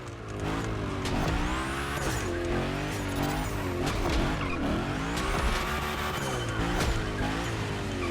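A video game car slides through Gymkhana drills, its tires squealing in long wavering howls over a loud constant engine roar that swells and dips through the slides.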